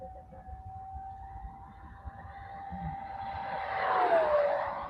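An RC model jet flies past outdoors, its whining turbine tone holding steady and then rising into a loud rushing swell as it nears, then dropping in pitch as it passes close by.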